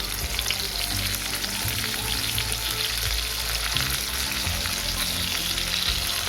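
Tawa chicken frying in a pan, a dense steady sizzle that stays loud and close throughout without a pause.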